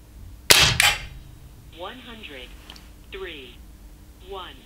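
Two sharp, loud cracks from an Umarex Race Gun CO2 4.5mm air pistol fired close by in quick succession, followed by a person talking.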